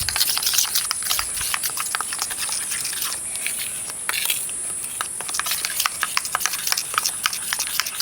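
Cornflour being stirred into white oil in a bowl, heard as rapid scraping, clicking strokes of a utensil, busy and close, with a constant high hiss running underneath.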